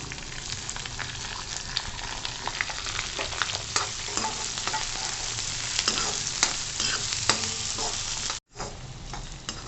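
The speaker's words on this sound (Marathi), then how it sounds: "हे बघा असा कांदा चांगला दोन मिनटं जरा परतवून घ्यायचा" Chopped onions sautéing in a pan for a wild kartoli vegetable dish, giving a steady close sizzle broken by scraping stirs, then a brief cut near the end.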